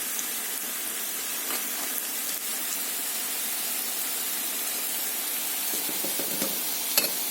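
Deruny potato pancakes sizzle steadily in a hot frying pan as they are turned, a dense continuous crackle of frying oil with a few faint clinks and scrapes near the end.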